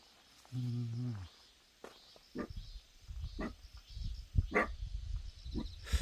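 A single dog barks in short harmonic bursts at a house in a remote mountain village about 700 m up, followed by footsteps and rustling nearby.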